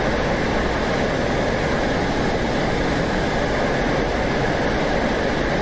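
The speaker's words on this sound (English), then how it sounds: "You can hear all the wind." Steady broadband wind roar in the cockpit of an F-5E Tiger II jet in the DCS flight simulator, a constant loud rushing with a low engine rumble beneath, no voices.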